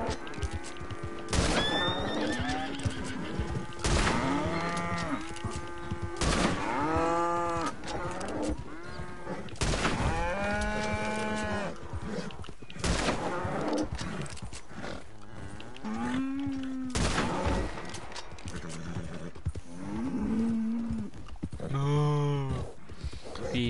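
Cattle moo repeatedly in a Western-themed video game, long low drawn-out calls rising and falling one after another, fairly close and loud, mixed with brief horse and cattle-drive clatter.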